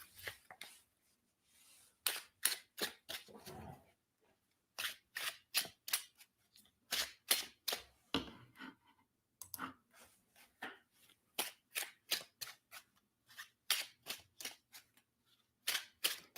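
Yes-or-no cards are shuffled by hand in a quiet room, with rapid bursts of crisp flicking and snapping that come in repeated short runs separated by brief pauses.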